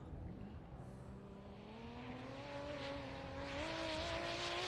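An off-road race car rounds the last corner on a racing circuit, its engine note climbing steadily in pitch as it accelerates away, faint and somewhat distant against outdoor background noise.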